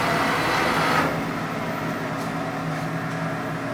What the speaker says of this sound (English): Carriage feed with the joystick.